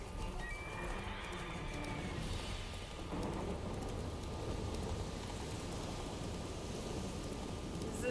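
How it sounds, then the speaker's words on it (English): A horse gallops in The Witcher 3, its steady hoofbeats running under a continuous rumbling game soundscape of wind or storm-like noise throughout, with no talk. "Just keep running, Roach."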